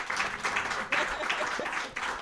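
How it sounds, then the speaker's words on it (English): A small audience claps in uneven waves for a brief stretch, the hand claps moderately close and fairly soft. "So we'll clap it up for that too."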